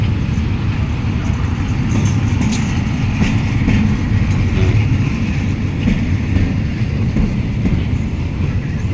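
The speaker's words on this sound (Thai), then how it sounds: "เป็นตู้ขนสินค้านะครับ รถไฟไทยนะครับ" Empty Thai freight wagons rumble past at close range near the Nong Khai border crossing, a steady loud low roar with faint wheel clatter running unbroken throughout.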